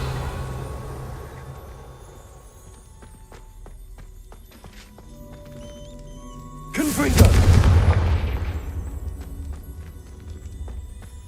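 A Revelio spell cast in Hogwarts Legacy bursts out as a sudden, loud shimmering whoosh over soft game ambience, then fades slowly over several seconds.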